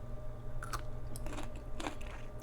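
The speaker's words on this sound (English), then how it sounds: "Cauliflower pickles the first, and it's delicious. It's soft now and still crunchy." Close crunching bites and chewing of soft yet still crisp pickled cauliflower, several distinct crunches in a loose rhythm against a quiet background with no talking.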